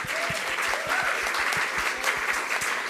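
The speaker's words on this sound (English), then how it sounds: "Let's give them all a round of applause." An audience at a political rally for newly signed state representatives claps steadily in loud, dense applause that holds evenly throughout.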